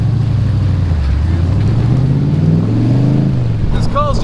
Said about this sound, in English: So now I've got the Aston Martin also going the other way.